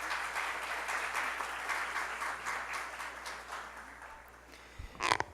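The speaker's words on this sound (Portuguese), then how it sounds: "Uma salva de palmas, por favor." A crowd claps steadily at a Porto Velho city council session, the applause fading gradually over several seconds before a few louder knocks and handling noises at the end.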